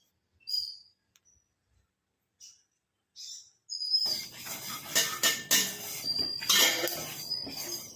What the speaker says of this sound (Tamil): எள்ளு வந்து பொரிஞ்சு விழுந்து கிடக்கு